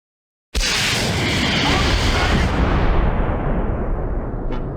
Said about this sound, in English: Chambers, in 2nd Platoon's bazooka, sets up a shot at the 2nd Sturmgeschütz.